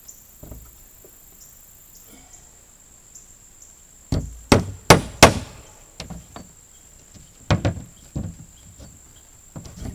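Sharp hand-hammer strikes on nails while building a greenhouse, in two quick bursts, a cluster of four or five blows followed later by a few more, ringing against a faint steady hiss.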